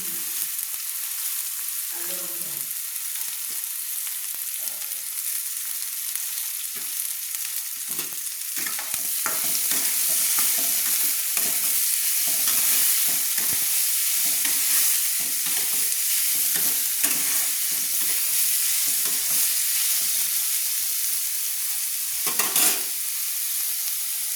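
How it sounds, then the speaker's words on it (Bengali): Potatoes and carrots stir-fry in oil for chowmein, making a continuous close sizzle broken by intermittent scraping and clattering strokes of a spatula, a little louder in the second half. "তো এবার আমি তুলে দিচ্ছি কেটে রাখা গাজর।"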